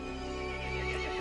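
A horse whinnies over a steady, dense synthetic backdrop in Resident Evil Village, the call rising and wavering in the latter half of the short clip.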